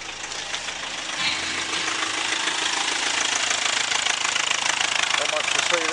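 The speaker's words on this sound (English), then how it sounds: "Not much to see there, but the motor's running." A Nissan Navara D40 with a YD25 2.5-litre turbo diesel idles steadily with a dense, even mechanical clatter at moderate distance, with no break in the running.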